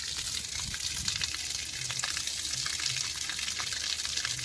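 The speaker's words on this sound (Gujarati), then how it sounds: "આ મોટર પાણી કાઢે છે." Water gushes out steadily from a motor pump in a strong, continuous splashing rush, fairly close, with a faint low hum underneath and no voices.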